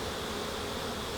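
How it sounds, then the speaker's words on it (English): Honeybees fanning their wings at a hive entrance during a swarm-cell inspection give off a steady, close, even buzzing drone that carries on without a break. "the bees are venting their wings near the entrance or inside the hive"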